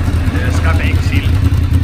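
A Honda VFR 750 (RC36) motorcycle idles through an Ixil exhaust, a steady low rumbling throb close by, with a voice speaking faintly over it.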